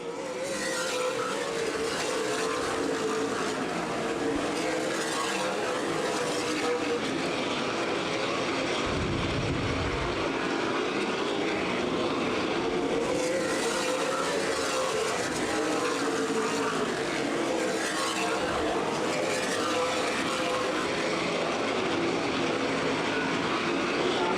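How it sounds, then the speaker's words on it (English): Race cars roar past at Anderson Speedway during a CRA Super Series Redbud 300 race, several engines running side by side in a pack, a steady loud drone with passing swells throughout. "A lot of heavy-duty racing going on back in that pack as we see some side-by-side racing."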